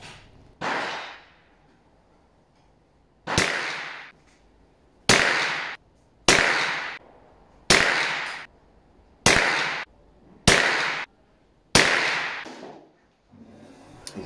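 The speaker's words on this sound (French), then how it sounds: "Nous reprenons notre séquence de tir." Eight rifle shots fired one at a time at an outdoor range, from a rifle fitted with a Vortex Diamondback scope. Each sharp, loud crack is followed by a rolling echo and a pause of one to two seconds.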